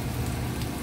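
Steady crackling sizzle of soy sauce poured into garlic browning in a frying pan while cooking adobong pusit, a dense, even hiss with no break across the short moment.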